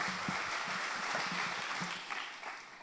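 Applause from a seminar hall audience greeting the next speaker, a soft, distant and continuous wash of clapping that fades slightly toward the end, with a few faint voices underneath.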